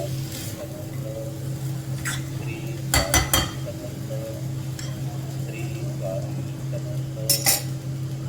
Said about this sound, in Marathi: चांगले मिक्स करूया मटकीला छान त्याची.